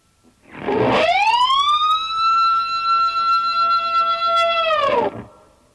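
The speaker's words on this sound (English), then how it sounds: "would be that G harmonic bend," One distorted electric guitar G harmonic swoops up into a sustained high bend, holds with slight wavering, then drops away after about four seconds, siren-like.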